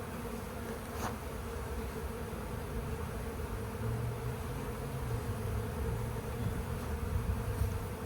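A honey bee swarm buzzes around its hive in a continuous, even drone of many wings, soft and steady throughout with no voices.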